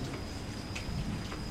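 Steady rainfall patters on a car at night, a dense even hiss of drops with a few slightly louder taps, continuous and close with no voices.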